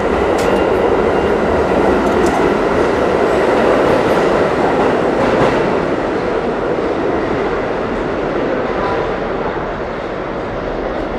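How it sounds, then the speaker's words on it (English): A New York City 1 subway train rumbles steadily nearby with dense, continuous rail noise, gradually fading slightly as it pulls away. "Sounds like the train just left, or the doors closed."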